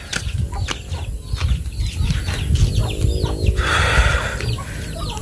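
Chickens clucking and chattering nearby in an outdoor provincial yard where rice is laid out to dry, with scattered bird calls and steady low background rumble.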